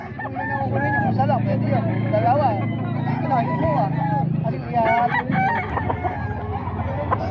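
A seven-month-old black gamefowl rooster crows loudly up close, its drawn-out call rising and falling over clucking and chatter from people talking around it.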